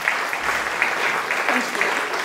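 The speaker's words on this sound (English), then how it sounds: "So give them a round of applause." An audience at a talk on remote viewing gives a round of applause, a steady wash of many hands clapping at moderate distance, sustained evenly across the whole stretch.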